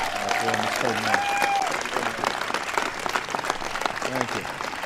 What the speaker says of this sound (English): So please give a big round of applause for Mr. Peyton Manning.